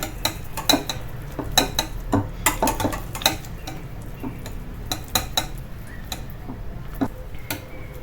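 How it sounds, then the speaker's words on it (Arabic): Lemon cake batter is stirred in a bowl, with a utensil clinking and tapping against the sides in quick, irregular bursts. The scraping is near and fairly loud, fades briefly in the middle, and no one talks. "غادي نخلطو مع المكونات مزيان حتى ينسجم معاهم"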